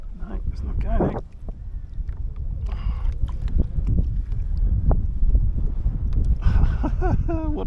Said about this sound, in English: What a time for the wind to pick up.